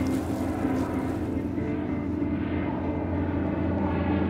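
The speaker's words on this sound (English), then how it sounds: "spotter plane soars over Provincetown" A spotter plane flies over the water near Provincetown during a tuna fishing outing, its steady engine drone filling the scene loudly and continuously from start to finish.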